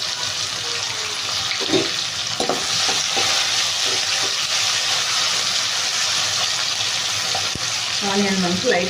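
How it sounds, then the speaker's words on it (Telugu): Onions fry in a pan with mustard seeds, urad dal, chana dal and two dried red chillies, giving a steady, close sizzle throughout. Occasional stirring clinks sound over it, with faint speech in the background. "ఆనియన్ మనకు లైట్గా ఫ్రై అయితే చాలు."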